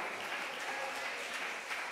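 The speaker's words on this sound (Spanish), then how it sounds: "Dele el aplauso al Señor." A church congregation applauds during a sermon, a continuous even crackle of many hands clapping at moderate volume, steady across the whole moment with no talk.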